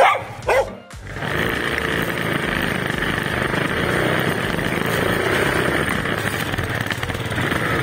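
Dogs bark sharply at a delivery rider on an Italika 150SZ motorcycle, a couple of quick loud barks at the start, then a steady engine-like rumble and street noise for the rest.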